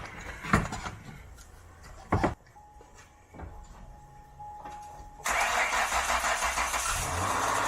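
A Ford SVT Mustang's engine cranks and catches after a few scattered knocks and a brief starter whir, then settles into a loud, steady idle running alone.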